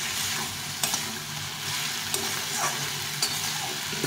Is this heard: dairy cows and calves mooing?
no